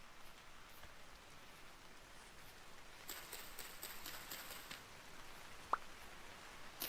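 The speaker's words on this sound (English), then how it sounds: "The sounds the rain makes as a little droplets land on the leaves." Rain pattering on leaves, a faint, steady hiss of countless droplets with one brief louder drip standing out near the end, no voices over it.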